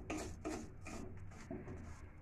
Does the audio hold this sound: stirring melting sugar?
yes